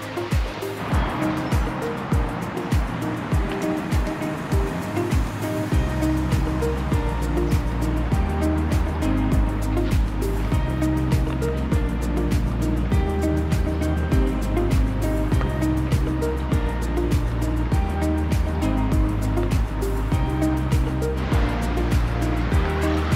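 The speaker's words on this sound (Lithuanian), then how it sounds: "Plaukia laivukas." Ferry sailing on the Baltic Sea near Tallinn: a loud, continuous engine drone and rushing water throughout, with a rhythmic thumping pulse early on and no talk.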